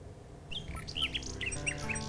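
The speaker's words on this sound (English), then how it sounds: "The little bird makes a delivery." Small bird in King's Quest VI chirping and squawking as it delivers a red velvet hair ribbon, a run of bright, quick tweets over soft background game music.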